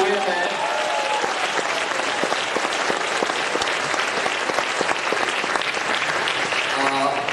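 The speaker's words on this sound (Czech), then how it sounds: "A zatleskejte prosím taky našemu dvornímu zvukaři, panu Reichmanovi z Dolních Bojanovic." Loud, dense applause from the audience at the 55th anniversary show of the Danaj folk ensemble in Strážnice, continuous crowded clapping for over seven seconds with faint voices mixed in.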